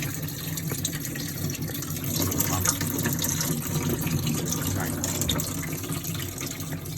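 Coolant running out of a 1.6 HDi diesel engine during timing belt and water pump work, a steady liquid gush and trickle that swells slightly midway, close by, with faint talk underneath.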